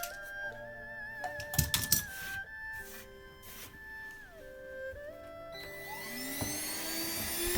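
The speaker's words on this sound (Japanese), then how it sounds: "室内での作業はその都度くずを掃除機で吸い取ります。" A vacuum cleaner sucks up wood debris indoors while a studio desk is being built, its motor whining steadily and shifting pitch, with rattles of material pulled in and rising as it spins up.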